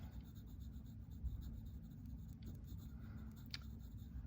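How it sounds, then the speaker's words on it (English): Graphite pencil shading on paper, building up layers of value toward the edge of a fine rendering: a soft, continuous scratchy rubbing that runs steadily and close throughout, with no talk. "I'm going to go towards the edge, add a little more graphite."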